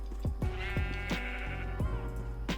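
Sheep in a Minecraft hardcore survival world bleat several times in quick succession, clear close cries with descending tails, heard alone without talking.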